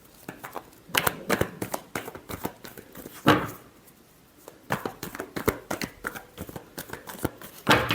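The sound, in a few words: shuffling tarot cards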